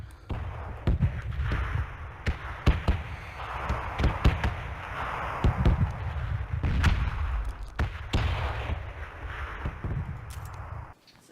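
Gunshots in the video game PUBG, a long run of scattered cracks and booms at mixed distances, some sharp and near, others muffled and far, over a constant low rumble with no speech.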